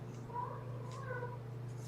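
A house cat lets out a couple of short, insistent meows, close and clear over a steady low electrical hum in an indoor room.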